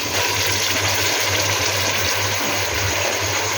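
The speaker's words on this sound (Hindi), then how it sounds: "तो ये वाले 2 गिलास तो मैं इसके अंदर पानी के डालूँगी।" Water pours steadily from a glass into a pot of lentil and meat curry (chana dal gosht). The pouring is a continuous, close, rushing splash with no talk over it.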